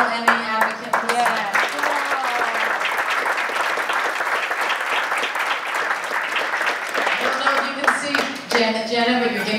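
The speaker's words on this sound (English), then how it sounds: "Janet, we're getting a round of applause." A panel audience at a public health department film screening applauds steadily for several seconds, dense clapping filling the room while voices speak over the start and the end.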